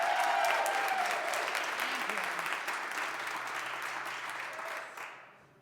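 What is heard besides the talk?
audience applause at comedy show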